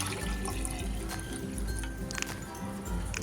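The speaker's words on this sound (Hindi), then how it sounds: "अब हम इसमें तकरीबन 3 से 4 कप पानी डालेंगे।" Water splashes and gurgles steadily into a metal pressure cooker, a continuous pour of about three to four cups with small clinks, fairly close and without talk.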